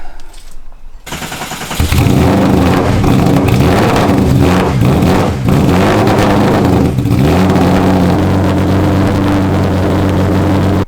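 A Falken Tyres Porsche 996 GT3 Nations Cup race car bursts into a loud, raw exhaust roar after a brief quiet start, revving hard and holding a deep, rasping drone close to the microphone with no talking.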